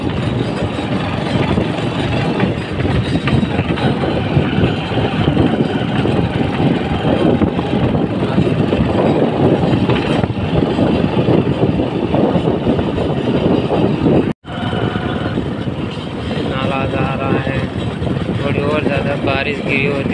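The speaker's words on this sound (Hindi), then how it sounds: "बाइक की आवाज़ ज़्यादा आ रही है" Loud, continuous engine rumble from a running motorcycle, steady and close throughout, with a momentary dropout partway through.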